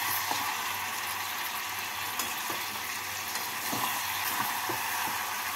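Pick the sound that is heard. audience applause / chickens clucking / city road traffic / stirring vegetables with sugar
stirring vegetables with sugar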